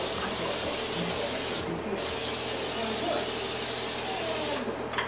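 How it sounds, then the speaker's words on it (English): Olive oil cooking spray misted over a tray of raw pumpkin seeds for roasting, a steady continuous hiss lasting several seconds, close and fairly loud over faint room hum. "I do have the olive oil cooking spray"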